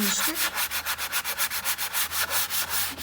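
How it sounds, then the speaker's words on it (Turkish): Rapid back-and-forth hand sanding strokes with sandpaper on a solid wood panel, removing masking gel, a steady rhythmic scratchy rasp repeating about five times a second, close and alone. "Şimdi zımparalıyoruz."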